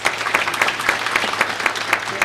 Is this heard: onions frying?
no